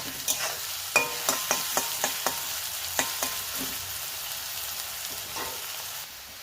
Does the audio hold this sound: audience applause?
no